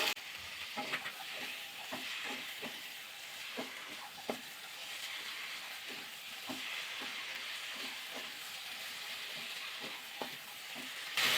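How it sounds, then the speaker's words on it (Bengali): Cauliflower and potato sautéing with spices in a pan, an even sizzle under repeated spoon scrapes and stirring knocks in a loose, irregular rhythm, close by and fairly quiet. "ফুলকপি আলু দিয়ে মশলাটা ভালো করে কষিয়ে নিয়েছি"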